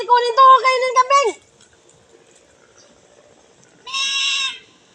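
A goat bleats loudly and close by, one long wavering call followed after a short pause by a second, shorter bleat, with no talking between them.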